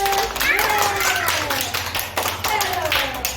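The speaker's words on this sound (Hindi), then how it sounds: "ताली बजा दो सर।" A school class claps for a pupil's birthday, with uneven, moderately close clapping from children mixed with overlapping young voices calling out.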